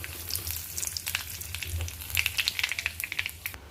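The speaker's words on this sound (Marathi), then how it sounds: "थोडंसं गॅस बारीकच केलं तर याच्यामध्ये आपण जिरं मोहरी टाकू" Cumin, mustard seeds and a bay leaf sizzling in hot oil over low heat, a crackling fry with quick popping bursts and a soft hiss, close and moderately loud.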